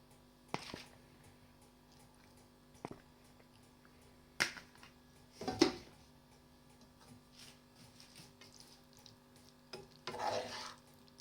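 Pasta being mixed into a creamy white sauce in a pan, giving a few soft, scattered scrapes and clinks of stirring against quiet background.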